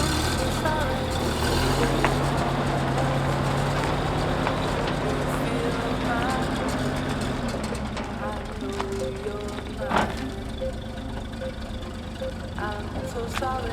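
An old Bedford truck being driven on a test run, with a steady, close engine drone and rumble and a few sharp knocks, while a voice is heard in the background.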